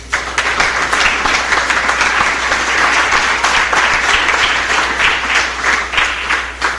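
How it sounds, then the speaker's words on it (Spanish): A church congregation gives loud, dense, sustained applause during a Catholic service on the Eucharist, continuous from start to finish with no talk. "Démosle un aplauso al Señor."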